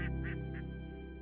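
Ducks quacking on the water among plastic decoys at a hunting spot in the Baie de Somme, three short nasal quacks in quick succession over a steady low hum.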